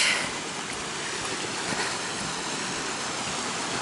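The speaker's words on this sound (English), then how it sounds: "Coming up to Riley Creek." Riley Creek's flowing water makes a steady broadband rush from beginning to end, a close, even wash of sound with nothing else standing out.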